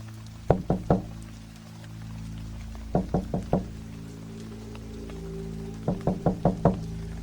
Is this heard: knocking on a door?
yes